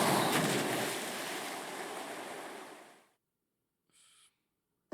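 A character splashes down into water in Paper Mario: The Thousand-Year Door, a broad rushing wash that fades out after about three seconds, followed by near silence and a brief, higher game sound effect.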